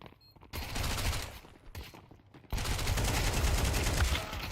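Bursts of SMG gunfire in Counter-Strike, rapid and dense, with a short volley, a pause and a longer sustained barrage, loud and close without talking.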